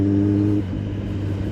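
A Yamaha XSR 900 motorcycle engine revs steadily up close, its strong low hum holding for over half a second before dropping into a rougher, uneven idle.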